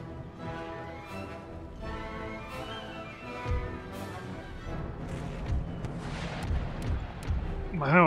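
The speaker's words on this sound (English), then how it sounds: "Field artillery engage the armed citizenry." Field artillery fires in Empire Total War, a line of cannon booming at irregular intervals in a steady battle din, with heavier thuds clustering toward the end.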